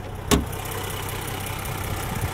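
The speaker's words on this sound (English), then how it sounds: "There's a 3-liter supercharged hybrid, mild hybrid, inline six. Nice sounding engine" A 2024 Land Rover Defender 130 Outbound's 3-liter supercharged mild-hybrid inline-six hums steadily at idle or low revs, a low, even drone heard from inside, with a brief click or thump near the start.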